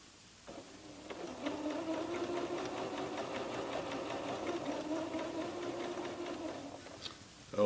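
A home sewing machine stitches a blind hem, a steady close mechanical whir with rapid rhythmic needle clatter that starts after a moment and runs for several seconds before stopping.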